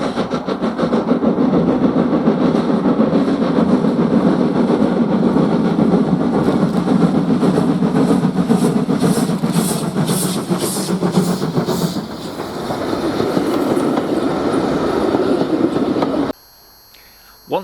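Locomotive 55189 climbs towards Manual Junction after crossing Avon Viaduct, a loud, continuous rumble of the train with rhythmic rail clatter close by, running steadily before cutting out near the end.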